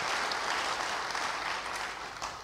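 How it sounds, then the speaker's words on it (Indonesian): A church congregation applauds during a sermon. The clapping is brief and moderately faint, with a steady wash of hands that eases slightly toward the end. "Yang senang beri tepuk tangan bagi dia"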